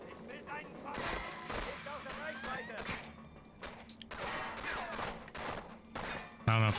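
Gunfire in the video game Medal of Honor: Frontline, with bursts of shots and bangs scattered across a busy battle mix. A voice talks over much of it, and a loud hit lands at the very end.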